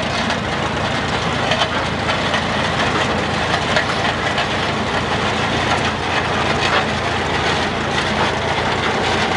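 A 1930 McCormick Deere tractor engine runs in a farm fair parade, a steady, loud broadband rumble with constant mechanical chatter and no clear breaks, heard alone without talk.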